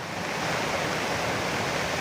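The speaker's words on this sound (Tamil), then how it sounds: "எப்பேற்பட்ட தண்ணி வந்து எப்படி அடிச்சும் போகுது" A loud, continuous roar of rain-swollen floodwater, broad and unbroken like a heavy torrent surging past nearby.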